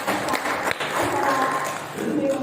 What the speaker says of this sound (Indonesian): Tepuk tangan dulu untuk teman-teman semua